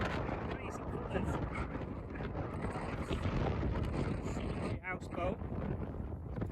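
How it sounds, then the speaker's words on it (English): Strong wind roars across the microphone on the Murray River near a houseboat, a steady heavy buffeting rumble that runs throughout with brief gusty dips. "Pretty windy."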